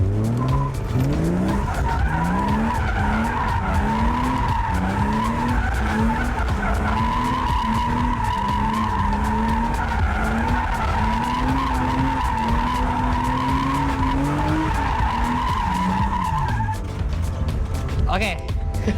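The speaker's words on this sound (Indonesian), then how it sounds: "Ini gue nggak pakai handbrake, udah cuman power slide doang aja" A drift car spinning power-slide donuts in first gear without the handbrake, its tires squealing continuously in rising and falling sweeps over a loud revving engine, close by, with someone talking over it.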